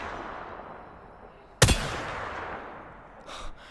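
A 30-30 Repeater lever-action rifle fires a single sharp, loud shot in a battle royale shooter, ringing out over ambient noise, with a fainter clatter following a couple of seconds later.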